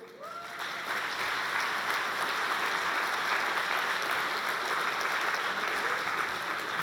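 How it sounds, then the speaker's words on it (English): A conference audience breaks into applause for the team chief during closing remarks, clapping swelling up quickly in the first second and then holding as a steady, fairly distant wall of many hands. "So I would like to ask you for the applause for Chief of our team, Benjamin Loring."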